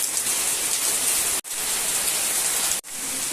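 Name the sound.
heavy rain falling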